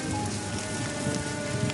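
Heavy rain pours steadily on surfaces as a dense, even hiss, close and continuous with no voices, serving as an effect in a Hindi story about a destructive downpour.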